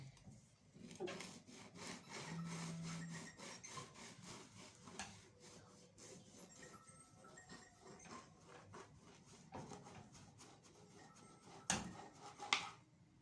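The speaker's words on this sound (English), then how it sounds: "Let's slice our bread." A knife saws back and forth through a soft loaf of homemade no-knead white bread, giving a steady run of faint rasping strokes that end in a few sharper knocks on the board.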